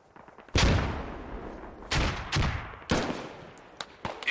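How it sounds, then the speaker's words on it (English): Explosions and gunfire in the combat game Squad: one loud blast with a long rumbling tail, followed by several more heavy bursts and scattered shots nearby. "He threw a grenade."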